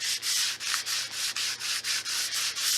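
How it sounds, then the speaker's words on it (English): A sanding block with 220 grit paper rubs back and forth over the varnished flat body of a Cort X6 guitar, a steady rhythm of about a dozen soft, close strokes with no talking. "I'm using a sanding block for my flats with like 220 grit sandpaper"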